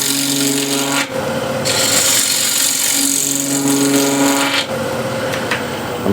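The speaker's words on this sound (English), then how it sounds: "I'll use a ball gouge just to get a little crown here" Ball gouge cutting a small crown into timber on a lathe for a hexagon plate, a steady close rasping scrape with a humming motor tone beneath, briefly easing near one second and again around four and a half seconds.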